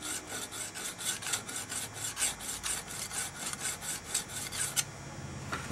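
A small file strokes back and forth across the cutter edge of a Forstner bit, making a rapid, even series of close, crisp rasping scrapes before stopping abruptly near the end.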